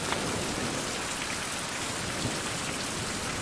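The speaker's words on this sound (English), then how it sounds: "I probably should get out of the rain." Steady, dense rain pours in the Survival: Fountain of Youth video game, a constant hiss of drops with a faint rumble beneath and no voices.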